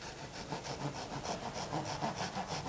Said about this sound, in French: il me faut ma scie, une petite scie japonaise, et là je vais pouvoir venir entailler tous ces petits côtés